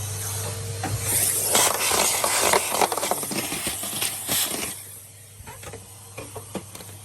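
A Henry cylinder vacuum cleaner running close by, a loud steady whooshing suction with a low motor hum, some rattling clicks over it, then easing slightly toward the end.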